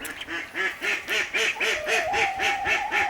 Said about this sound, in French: Ça boit toute la journée un canard.